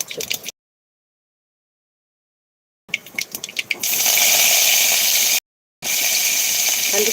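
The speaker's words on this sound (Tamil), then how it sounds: "உங்களுக்கு அந்த பொரியிற சத்தம் கேட்கும்னு நான் நினைக்கிறேன்" Loud, steady broadband sizzling of food frying in hot oil, starting after a few quiet gaps and crackles, briefly cutting out before resuming.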